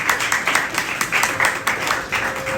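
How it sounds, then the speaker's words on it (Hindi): Audience applause at a campaign closing ceremony, a steady wash of many hands clapping that fills the whole short stretch at moderate loudness with no voices on top. "इसके लिए जोरदार तालियां हम सभी बताएं।"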